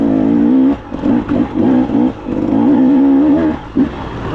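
A motorbike engine revs hard and falls off repeatedly while riding wooded trails, loud and close with a wavering, throttle-driven pitch and short gaps between bursts.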